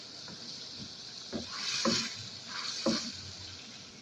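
Capsicum, onion, carrot and tomato frying in a pan for a liver dish, a steady soft sizzle broken by a few distinct stirring scrapes and clatters close by.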